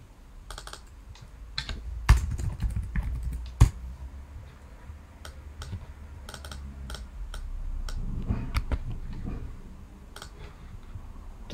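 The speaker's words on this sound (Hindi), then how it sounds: "मैं यहाँ टाइप कर देता हूँ।" Fingers type on a computer keyboard in a quiet room, with irregular bursts of light clicking keys and a couple of louder taps, no speech.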